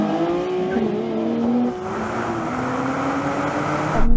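A Nissan Z accelerates hard in second gear from a standing start, its engine note climbing steadily and loud and close, with a brief dip near the middle as it pulls on.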